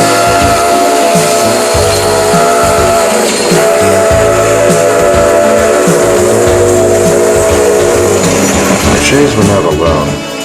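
A Shay geared logging locomotive works along a Pacific Coast logging railroad, its steady chuffing and rumbling running through the whole stretch, with a steam whistle sounding near the end, loud and close, under a narrating voice.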